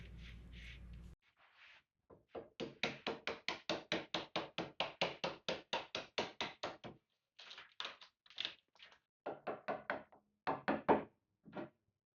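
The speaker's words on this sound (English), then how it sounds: "Knock it out a bit with a hammer" A rapid series of sharp hammer knocks rings out as a kitchen countertop scribe is knocked out, dozens of evenly spaced strikes, then a few slower, irregular blows with brief pauses, close and alone.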